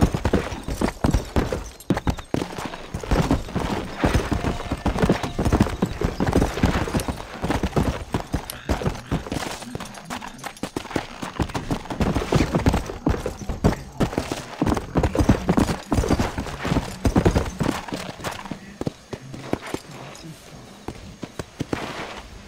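Horse hooves galloping in the Red Dead Redemption video game, a rapid continuous clip-clop rhythm heard close and loud throughout, with game effects and bursts of other sound in the mix.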